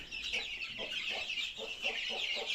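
Incubator-hatched chicks cheep in a dense, high-pitched chorus, steady and fairly close, with short repeated peeps rising above it at a quick, uneven rhythm.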